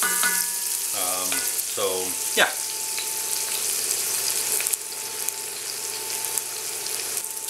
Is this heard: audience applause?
no